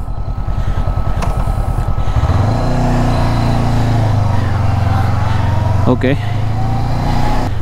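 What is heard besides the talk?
500cc motorcycle riding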